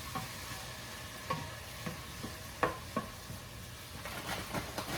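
Mushrooms sizzle in a hot pan for cauliflower fried rice while a utensil stirs and breaks them up, producing a steady frying hiss punctuated by several sharp scrapes and taps close up.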